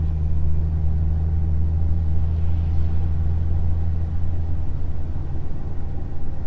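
A Ford Crown Victoria fitted with a Ford 8.8 locking differential cruises on the road at about 50 mph, giving a steady, loud low engine and road rumble with a constant drone throughout, with no speech.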